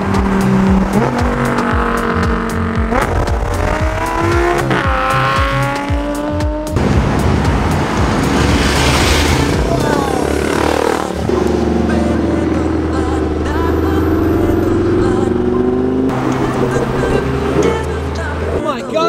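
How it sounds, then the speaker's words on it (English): Sports cars drive past at a car meet, with loud engines revving and accelerating, tires squealing and repeated pass-bys building and fading. Steady engine roar runs throughout, with some voices mixed in. "Enjoy some B-roll of some sick cars driving right now."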